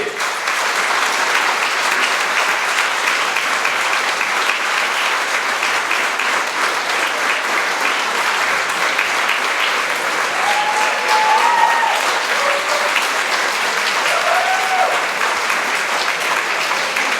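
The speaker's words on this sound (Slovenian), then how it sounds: "dajmo jim en velik aplavz" Large audience at an anniversary concert for a vocal group applauds steadily and loudly throughout, a dense continuous wash of clapping with faint voices briefly audible underneath.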